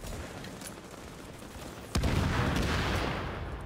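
A turret in the video game Tom Clancy's The Division opens up with a sudden loud burst of sustained gunfire over steady background noise.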